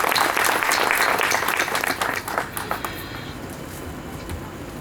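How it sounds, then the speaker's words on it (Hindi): Applause from an audience at a business growth talk, dense and loud for about two seconds, then thinning into scattered claps that fade under a soft room hum. "आप सबके लिए एक बार तालियां हो जाए।"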